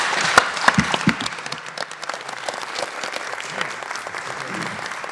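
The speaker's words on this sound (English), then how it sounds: "Let's give them a round of applause." A forum audience applauds the Johnson County Community College board of trustees candidates, a burst of close sharp claps settling into steady crowd clapping that fades slightly toward the end.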